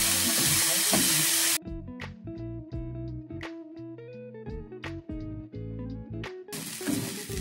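Onion, garlic and ginger frying in a pan for keema curry, a loud bright sizzle at the start and the end, with a gap in the middle filled by light background music.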